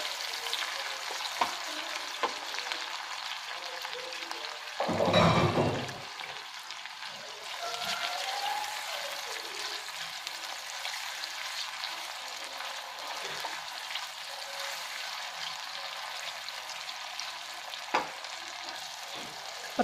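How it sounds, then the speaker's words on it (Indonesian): Tomatoes and chilies frying in oil, a steady, close crackling sizzle that runs throughout, with occasional light clicks of a utensil and one brief louder scrape early on. "Kita masaknya ini sampai minyaknya berubah menjadi sedikit kemerahan dan tomatnya mengeluarkan sari-sarinya."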